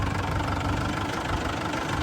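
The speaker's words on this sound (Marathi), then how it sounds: "मजा आली ट्रॅक्टर चालवून." A tractor engine runs steadily while driving along a rough village road, a continuous, close, rumbling drone with a knocking edge and no pauses.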